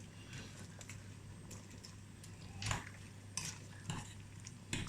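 Linguine with meatball sauce in Neapolitan tomato sauce is stirred in a pan with a fork, faint soft scraping and clinks over a low sizzle, with a few louder taps.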